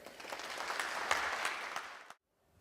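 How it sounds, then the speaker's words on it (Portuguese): A crowd at a community writing event in Rio applauds with steady clapping for about two seconds, then stops abruptly into near silence. "uma salva de palmas aí para a galera"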